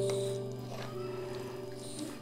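Grated bottle gourd batter for lauki chilla is stirred with added water, making soft, wet squishing and sloshing sounds close up against a steady background hum.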